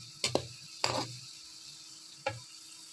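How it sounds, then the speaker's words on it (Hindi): Onions frying in ghee for Karachi-style chicken biryani, stirred now and then: three short scraping stir strokes over a faint, steady sizzle, close and fairly quiet with no voices. "यहाँ पर हमने प्याज को कलर देने तक थोड़ा सा फ्राई करना है, थोड़ा गोल्डन ब्राउन कलर देना है"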